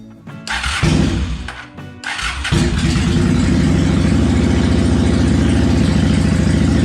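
A Honda Shadow motorcycle engine, just fitted with new spark plugs, cranks in two short bursts, then catches and settles into a loud, steady, close idle.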